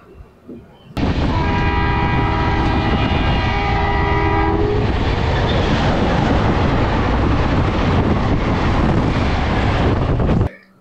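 New Jalpaiguri–Howrah Shatabdi Express passenger train moving on rails, a loud continuous roar and rumble with a long sustained horn blast over the first seconds, heard close up with heavy wind buffeting.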